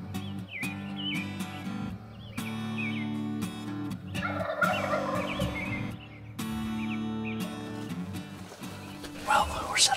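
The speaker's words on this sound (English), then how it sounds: "Gobblers are up here in the roost, going wild already" Wild turkey gobblers sound off from the roost in repeated rattling gobbles, several birds overlapping at middle distance. Quieter chirps and outdoor ambience fill the gaps, and someone talks quietly over parts of it.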